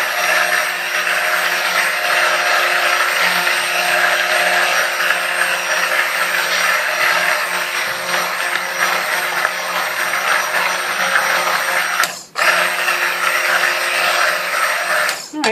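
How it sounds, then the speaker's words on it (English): A stick blender mixes soap batter with a steady, loud whirring drone that runs continuously and stops briefly near the end before starting again. "it hasn't even been a whole minute that I've been stick blending"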